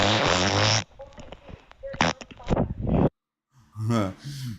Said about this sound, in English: Now give him a fart.